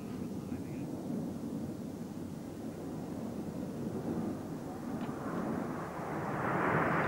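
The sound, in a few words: aircraft engines of display planes flying in formation at an airshow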